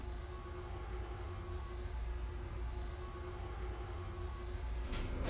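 An R142A subway train on the 5 line bound for Flatbush Avenue runs steadily in the OpenBVE train simulator, with a continuous low rumble, faint tonal hums and a louder burst near the end, no talk.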